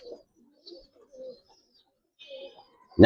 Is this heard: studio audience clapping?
no